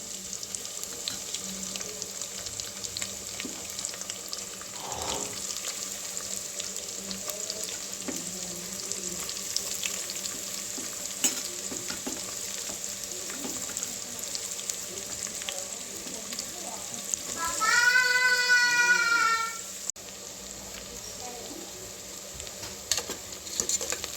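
Chopped onions fry and are stirred in a pan for tomato bath, a steady sizzle with occasional scraping throughout, plus a brief tonal whine near the end.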